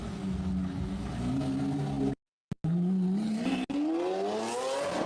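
A Lamborghini engine revs hard, its pitch climbing steadily as it accelerates, cuts out abruptly in a brief gap, then returns and rises again, loud and close with no voices.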